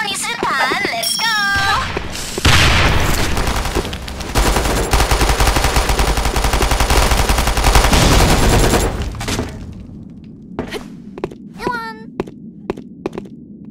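A grenade explosion and gunfire in the online shooter Sudden Attack: a heavy blast gives way to several seconds of dense, loud automatic fire, then scattered shots and short character voice lines.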